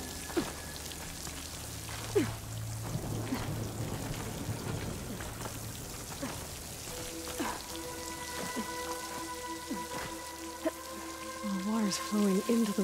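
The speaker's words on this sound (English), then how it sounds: "Where's this water coming from?" Steady rushing water flows near a waterfall in the video game Horizon Forbidden West, a continuous wash of spray with small game tones and chimes over it, moderately loud throughout.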